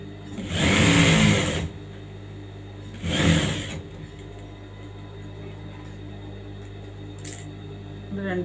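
A sewing machine stitches a princess-cut blouse in two close, whirring runs of a few seconds each, with quiet pauses between them and a faint click near the end.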